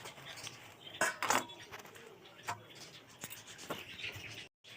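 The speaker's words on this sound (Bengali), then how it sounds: "ফুলকপির পাতাগুলো ধোয়ার পর এবার কেটে নেব।" A knife chops washed cauliflower leaves on a board, a few soft irregular cuts and taps, close but quiet in a still kitchen.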